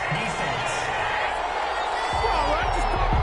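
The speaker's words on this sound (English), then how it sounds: "Some boos coming down right now from this home crowd after that call" A home crowd at a football game boos after a pass interference call, a steady broad roar of voices that swells slightly near the end, with a commentator talking over it.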